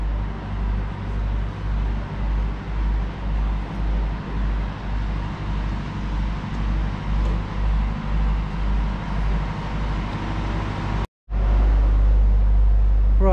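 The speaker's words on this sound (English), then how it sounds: "Oh, there's a car coming." A car approaching along a narrow village road in Bellapais, Cyprus, a steady engine rumble with a pulsing low throb that holds for several seconds, then a brief dropout before the motor returns louder and closer.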